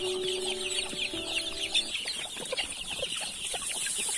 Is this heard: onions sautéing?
no